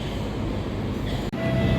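The YIA Express airport train runs with a steady rumble and the rattle of its wheels, with a faint high tone near the end and a brief dip in the noise. Nobody speaks.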